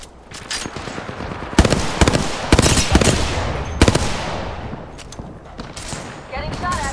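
Rapid gunfire from the video game Apex Legends crackles in several sharp bursts at close range, mixed with in-game voice lines and background rumble.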